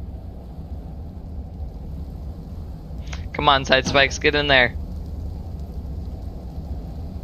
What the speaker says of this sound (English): Crank up the rain.